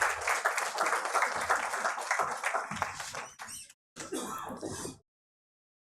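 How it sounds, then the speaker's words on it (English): Audience applause for the women on stage at a healthcare conference, a dense patter of hand claps that breaks off briefly near the end, resumes, then stops abruptly. "kindly extend a very warm welcome and a big round of applause for all the wonderful"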